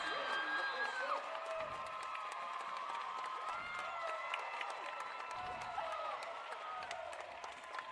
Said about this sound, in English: The touch across gets it down, and the Falcon crowd on their feet.